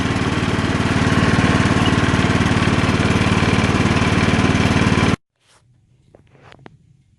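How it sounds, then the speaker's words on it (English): A loud lawn tractor engine drones steadily at close range, then cuts off abruptly, leaving faint clicks and small sounds in the quiet. "that was the key for the lawn tractor"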